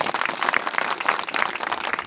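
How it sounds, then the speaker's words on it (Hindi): A short burst of crowd applause at an outdoor village gathering for Ambedkar Jayanti, many hands clapping together at steady loudness with no voices on top. "एक बार जोरदार तालियां उनके लिए बजाएं"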